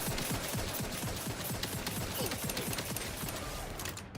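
Rapid automatic gunfire in The Outer Worlds, a dense, loud stream of shots fired in a steady, fast rhythm for several seconds, up close with no talking.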